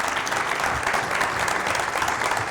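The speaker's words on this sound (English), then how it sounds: "Another round of applause for all the sort of startups who contributed" Steady applause from a crowd, dense continuous clapping filling the whole stretch with no voices standing out.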